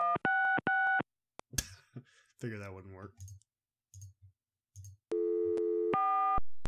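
A desk phone in the video game Gabriel Knight: Sins of the Fathers sounds loud, steady electronic tones in short bursts and then a longer stretch, with clicks and someone talking between them.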